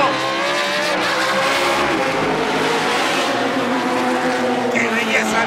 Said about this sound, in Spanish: Qué belleza el sonido de los autos 8 cilindros complementados con la categoría GT2.